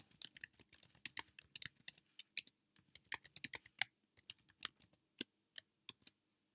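Rapid, irregular clacking of keys on a computer keyboard as text is typed for a Cricut Maker Lego gift bag topper design, close and crisp with short pauses between bursts.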